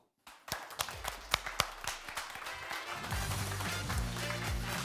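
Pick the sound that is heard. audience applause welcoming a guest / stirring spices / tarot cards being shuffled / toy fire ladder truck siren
audience applause welcoming a guest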